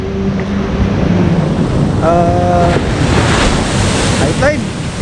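Ocean waves washing onto Binitinan Beach, a loud continuous surf roar mixed with gusty wind buffeting the microphone, plus a few brief tonal squeals over the rush.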